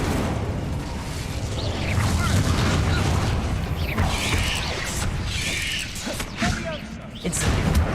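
Spell blasts and magical combat in the Hogwarts Legacy video game on hard mode, with dense, continuous booms, whooshes and clattering impacts. The sound stays loud and layered throughout, with brief dips.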